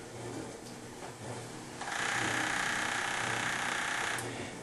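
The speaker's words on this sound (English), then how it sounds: "the Andis Speedmaster, when you have intense speed, as with the case of this toy" An Andis Speedmaster hair clipper runs at high speed, a steady close buzzing hum that swells louder after a quieter start and holds evenly before easing off near the end.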